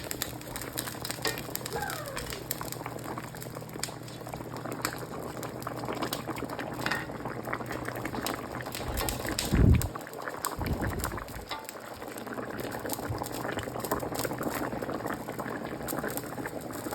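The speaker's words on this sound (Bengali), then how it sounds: "ওটা টকবক করে ফুটে উঠেছে, মাছগুলো সব একবারে দিয়ে দেবো" A pot of fish curry boils steadily, a continuous close bubbling and gurgling that runs throughout, with one brief louder bump of movement near the middle and barely any talk.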